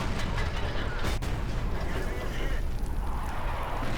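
Artillery fire and tank cannon shots in the World of Tanks video game, a dense, steady roar of battle noise with one sharp blast partway through, loud throughout and mixed with someone talking.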